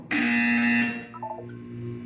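Buzzer in the video game Portal 2 during the opening test chamber; one loud, harsh electronic tone sounds for under a second, then fades into a few quieter tones and background hum.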